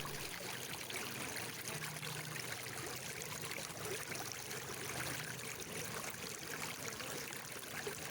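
Water flows through mountain irrigation channels along a Himalayan trekking route near Phu, a steady faint gurgling rush with no other sounds.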